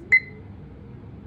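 An HBL400 smart door lock keypad gives a single short, clear electronic beep while a password is being entered, followed by quiet room tone.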